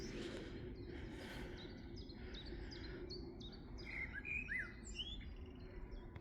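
Along a river, a blackbird delivers a run of fluting, whistled song phrases mixed with thin chirps, fairly distant over a steady low outdoor rumble, with no voices present.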